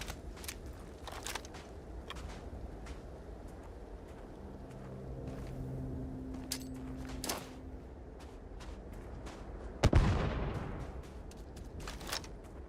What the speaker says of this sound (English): That's how you lob a grenade.